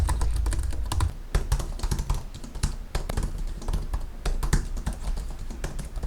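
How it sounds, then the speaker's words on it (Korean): Fingers type on a Logitech Combo Touch keyboard for an iPad Pro, fifth generation, producing a quick, irregular run of soft key clicks and taps that continues throughout, close and clear with no talking. "그리고 키보드 타이핑 감도 상당히 괜찮았어요."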